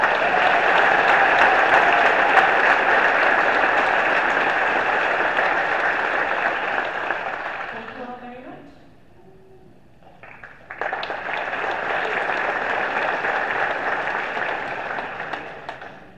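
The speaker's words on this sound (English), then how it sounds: "Let's have a round of applause." A senior scholarship ceremony crowd applauds a named scholar, broad sustained clapping that fades to a brief lull with a few voices, then surges back into a second long round of applause.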